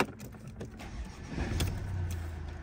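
A car's diesel engine turns over and catches during a particulate filter regeneration, a short starter crank followed by a steady low idle close by, with no talk.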